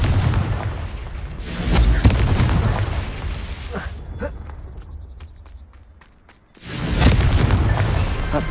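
The Confringo fire spell detonates in Hogwarts Legacy on PS5. A loud, rumbling explosive blast fades into a quieter stretch of crackles and pops, then a second heavy boom bursts in.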